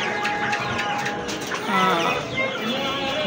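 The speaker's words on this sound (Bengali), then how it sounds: "এখন এই মোরগগুলা খাবার খাচ্ছে" Hill roosters cluck and chatter in short, overlapping calls while feeding inside a shop, close and moderately loud, with a few brief scuffles and background noise.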